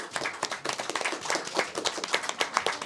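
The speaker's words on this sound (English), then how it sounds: "And another round of applause to our moderator, Gordon Chang." Brisk applause from a small press conference audience for the moderator, many overlapping claps at close range, steady for a few seconds with no speech.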